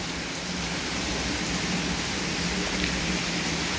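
Light rain falls in Mumbai as a steady, even hiss of drops that stays soft and continuous with no distinct events or voices.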